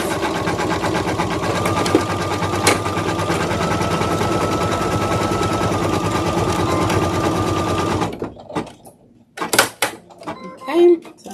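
A machine embroidery sewing machine stitches down felt applique spots for a giraffe mask, a loud steady rapid mechanical whirring for about eight seconds, then stopping into a few scattered clicks and handling sounds.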